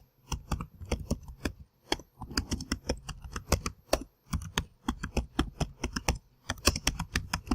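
Rapid clicking keystrokes on a computer keyboard, typed in quick uneven bursts with brief pauses, close and clear with no talking.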